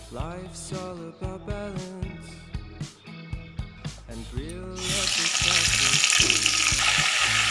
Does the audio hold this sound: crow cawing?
no